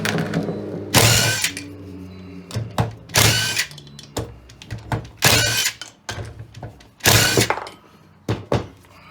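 A power impact wrench removes the wheel nuts from a mobility scooter, firing loud, close hammering bursts of about a second each, four times in a steady rhythm, with metallic clanks and handling knocks between them.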